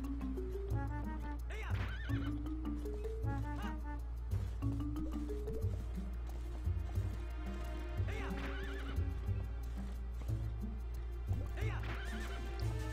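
Horse neighing in Zelda: Twilight Princess, with repeated whinnies over steady clip-clopping hooves and game music, loud and close throughout.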